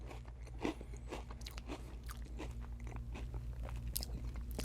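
A mala fried rice cracker with a hard texture being bitten and chewed up close, producing repeated crisp crunches in an irregular rhythm over a low hum, with no talking.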